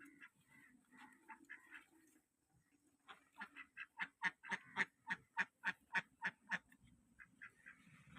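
Hens and a rooster in a village yard give a run of about a dozen rhythmic, evenly spaced clucking calls that build and then fade, with scattered softer calls before and after.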